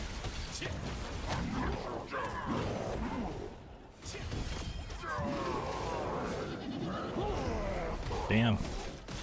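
Sheep bleating in a video game, a few short bleats over game sound effects and clattering mechanisms, with a person talking over much of it.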